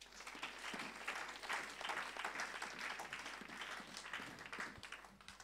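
A church congregation claps and applauds together in a continuous, fairly faint patter of many hands, lasting several seconds without a break.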